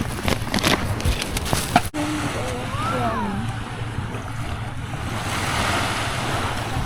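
Sea waves wash steadily onto an island beach, with a constant surf rush and gusts of wind buffeting the microphone. A short clatter comes near the start and faint voices sit underneath.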